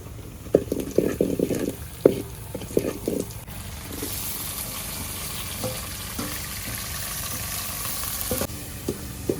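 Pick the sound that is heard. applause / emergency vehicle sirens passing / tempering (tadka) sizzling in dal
tempering (tadka) sizzling in dal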